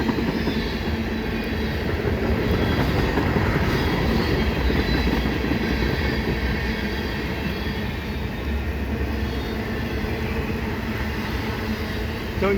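A CN freight train rumbles past Pointe Claire EXO Station in heavy rain, a steady, loud roll of wagons and wheels over the rails under a constant hiss of rainfall, with no voices.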